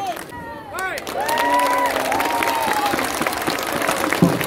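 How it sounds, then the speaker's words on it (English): An audience at a La Croisette stage show applauds a lion and dragon dance group, a steady wash of clapping and crowd noise with a few high cheers rising over it. "on peut les applaudir à la danse du dragon."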